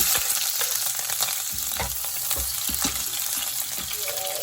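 Water spinach with garlic and peppers stir-fries in a hot wok, a loud, dense sizzle broken by repeated scraping stirs, close and steady with no talking.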